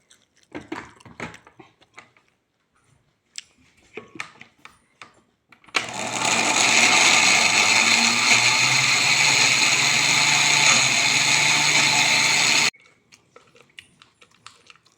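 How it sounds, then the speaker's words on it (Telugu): A kitchen mixer grinder blends cucumber pieces with mustard powder, a loud steady whirring burst of about seven seconds, preceded and followed by quiet clinks and handling. "ఇప్పుడు ఈ ఆవ పొడి కలిపిన దోసకాయ ముక్కలు కొన్ని తీసుకొని దీంట్లో అన్ని కలిసేట్టు కొంచెం మళ్ళీ మిక్సీ పట్టుకోవాలి"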